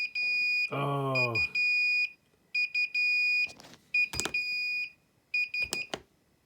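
Repeated high electronic beeps from an egg incubator's low-temperature alarm, at 8.5 °C, sound in bursts, with a short buzz and a couple of sharp clicks between them, close and clear.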